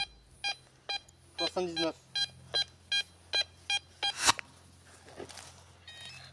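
Metal detector beeping over a target while exploring a forgotten ruined village, a regular series of short bright pulsed tones with one warbling burst, then a voice speaks briefly.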